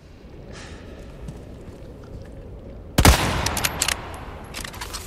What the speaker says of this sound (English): Let's give it the old rifle treatment.